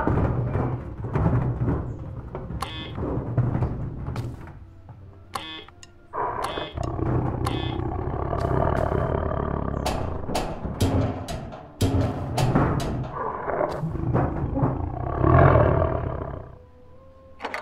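A tiger in the video game Dr Langeskov growls and roars close and loud, with deep rumbling snarls building into repeated roars over about eighteen seconds.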